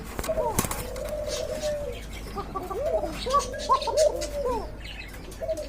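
Pigeons at a market coo in low, throaty rolling calls, several overlapping close by, with a brief flutter of wings at the start and faint background chatter.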